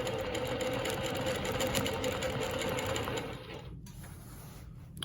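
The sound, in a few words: longarm quilting machine stitching with rulers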